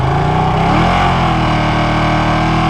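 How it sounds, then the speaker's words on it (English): A Ducati 959 motorcycle engine revs up from a throbbing idle, the pitch climbing and holding at a loud, rough, higher drone. "Bring up the revs."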